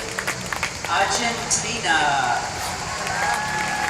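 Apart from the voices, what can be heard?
crowd applauding and cheering at closing ceremony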